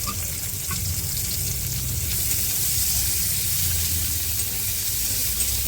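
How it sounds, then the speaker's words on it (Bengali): Chopped onions fry in hot oil, giving a continuous, even sizzle that stays steady and close throughout, with no talk. "তেলটা গরম হয়ে গেছে এই যে পেঁয়াজটা ভাজা হতে থাক"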